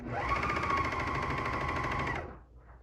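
A coverstitch sewing machine hemming a circle skirt runs at a steady fast whir for about two seconds, then stops abruptly, leaving a brief faint mechanical sound.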